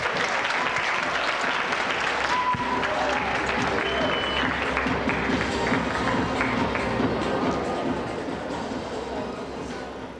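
Middle school student competition audience applauding an answer, a dense burst of many hands clapping that holds for several seconds then gradually thins and fades.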